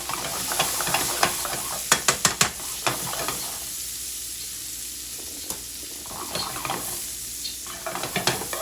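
Salmon fries in butter in a pan, a close, steady sizzle broken by sharp clacks and scrapes of stirring and turning, with brief quieter stretches between bursts of activity.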